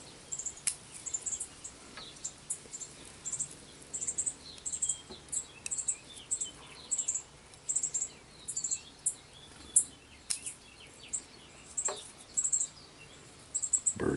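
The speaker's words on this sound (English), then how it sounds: "Birds are having a nest out here, and they don't like me being out here." Nesting birds call outdoors with repeated short, high chirps in an irregular rhythm, moderately near, over a soft background of insect-like buzzing and no talking.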